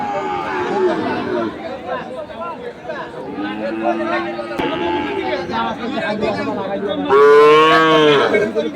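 Sahiwal bull calves lowing at a busy cattle market, several moos rising over steady crowd chatter, with one long, loud, close call near the end.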